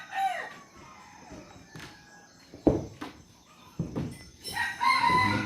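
Chickens cluck in short bursts near a coop under a papaya tree while a rooster crows loudly partway through, with a few footsteps and scattered farmyard noises around them, in an Indonesian village.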